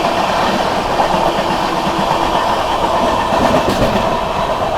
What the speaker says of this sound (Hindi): ओवरटेक करते हुए अहमदाबाद राजगीर अजीमाबाद को।